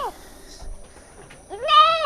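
A goat kid of about one to three months gives a short, wavering bleat near the end, close and fairly loud after quieter background sound.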